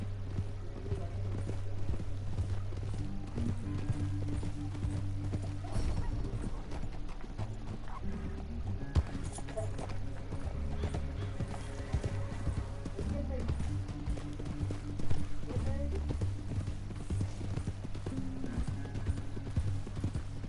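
Rapid rhythmic hoofbeats of a horse galloping in the video game Red Dead Redemption 2 carry on throughout, steady and fairly loud, with a low rumbling backdrop.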